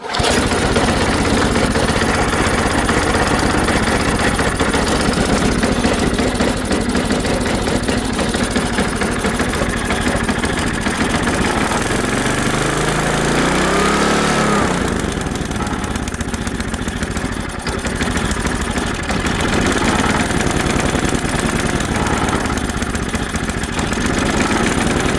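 An Ariens ST524 snowblower engine runs at full throttle with a loud, steady small-engine drone, briefly dipping and surging mid-way as the governor hunts, then holding close and constant without talk.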